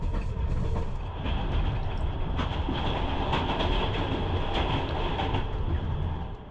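An old, slow night train in Kazakhstan rolls steadily along the rails, a continuous rumbling clatter with rhythmic wheel clicks and a faint metallic squeal, heard from inside the carriage.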